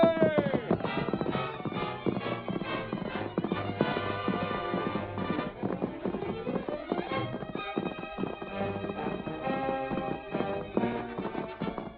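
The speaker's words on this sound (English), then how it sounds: "The masked man and his faithful Indian companion urged their horses to their greatest speed." Horses galloping at full speed in a Western radio drama, a steady clip-clop rhythm of hooves running under a dense orchestral music score throughout.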